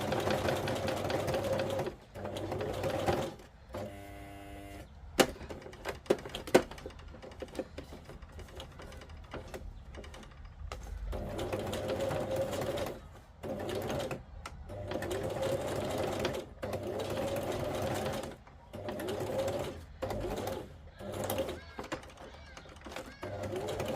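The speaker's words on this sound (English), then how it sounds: "so I can get it back through my machine here" Sewing machine stitching fabric in bursts of steady whirring runs with pauses between them, close and fairly clear, with a person talking quietly during some of the gaps.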